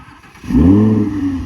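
An Audi R8 V10 Spyder engine cranks and catches, then settles into a loud, steady idle with a low rumbling growl, heard close with no talking.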